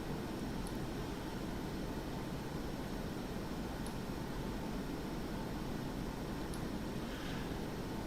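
F-5E jet engine running off afterburner in the DCS flight game, a steady, faint broadband roar that stays unchanged throughout with no talk.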